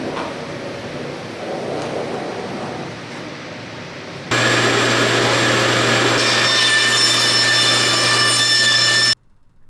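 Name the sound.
bandsaw cutting curves in wood for dust collector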